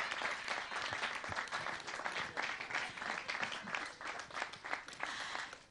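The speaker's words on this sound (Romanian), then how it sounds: "aplauze" Sustained applause from an audience, dense steady clapping that fills the whole stretch at a moderate level.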